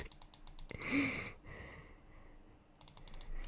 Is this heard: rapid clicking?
yes